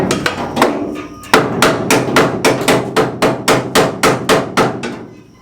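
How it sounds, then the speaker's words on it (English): A hammer strikes a stuck, nearly welded bolt on a hardbody pickup during a drop kit install, a fast run of a dozen or so sharp metallic bangs, close and loud, with no talking. "Try bang it with a hammer."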